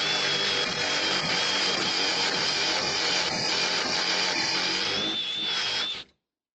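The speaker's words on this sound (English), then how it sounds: "trying to drill that door." Power drill boring into a front door, a steady loud whine held for about six seconds before cutting off abruptly.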